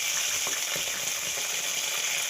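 Peanuts and chana dal fry in oil, giving a soft, even sizzling hiss with faint crackles, close and unbroken over a couple of seconds.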